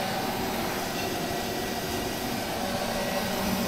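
Steam blower on a Romulus type locomotive at Northcliffe Railway, a steady, loud broadband hiss and rush that holds level throughout with no breaks.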